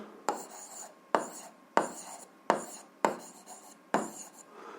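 A pen scratching across paper in six separate strokes, each a short dry scrape with a sharp start that fades, spaced at a steady rhythm and heard close with no talking.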